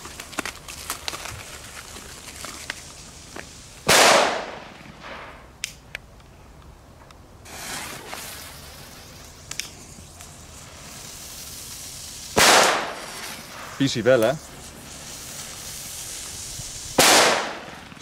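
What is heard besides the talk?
firecrackers from Belgium exploding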